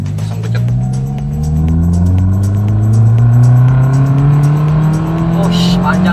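A 2009 Daihatsu Xenia engine revs as the car accelerates in second gear after tuning, a steady rising drone climbing in pitch over several seconds, close and loud.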